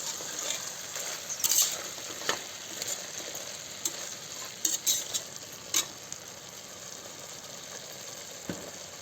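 Mutton curry with chili powder is stirred in a pan, giving a soft, low sizzle punctuated by scattered scrapes and clicks of the spoon against the pan.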